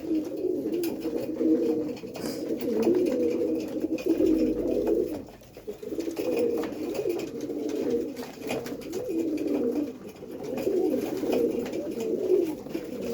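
Pigeons coo steadily and close by, layered soft throaty calls running continuously with no talking, in a pigeon-keeping setting.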